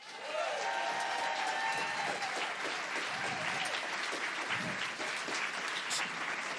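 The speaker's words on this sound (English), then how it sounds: "round of applause first for Mr." Studio audience at an Edinburgh Fringe comedy radio recording applauds comedian Nish Kumar, steady dense clapping and some cheering sustained throughout, with a faint voice and music tones briefly audible at the start.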